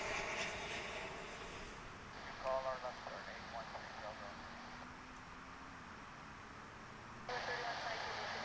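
Airliner jet engines roaring during a takeoff at DFW International Airport, a distant steady rumble with talk over it.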